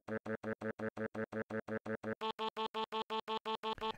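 A saxophone sample is pitched up an octave by doubling its playback speed into rapid, evenly repeated staccato notes. It then jumps higher still, sounding bright and thin, faint and alone.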